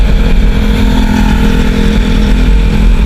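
A motorcycle runs loud and close on a city street at night in Angeles City, its engine a steady, dense rumble throughout with no voices.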